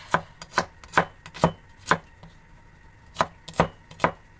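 A knife chops food in crisp, close strikes, about nine in all, coming in an uneven rhythm with a short pause midway, alone and without speech.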